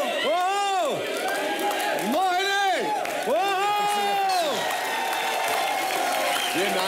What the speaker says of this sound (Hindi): जोरदार तालियां शाहरुख खान, अभिषेक बच्चन और दीपिका पादुकोण के लिए